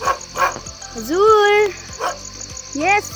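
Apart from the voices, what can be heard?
dog barking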